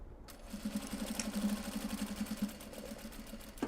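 A sewing machine runs a seam on an upcycled obi and kimono bag, a low even motor hum with rapid needle ticking, moderately loud and steady after a brief quiet start.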